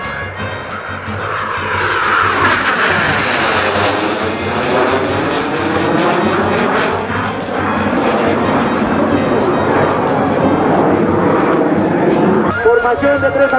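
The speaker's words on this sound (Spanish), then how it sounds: "También estuvieron presentes los aviones A-37B." An A-37B military jet at a Peruvian Air Force air sports festival in Cajamarca roars past with a loud, sustained engine whine that sweeps in pitch as it flies by, with a crowd faintly audible underneath.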